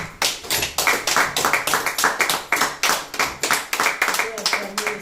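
A church congregation claps in steady rhythm, loud and close, a run of sharp hand claps roughly every fifth of a second throughout, with voices mixed in.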